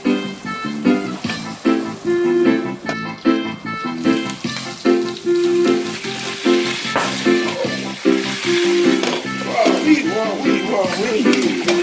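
Pork for a Jamaican jerk pork stew sizzles and fries loudly in a pot, crackling and popping steadily throughout with bursts of spattering.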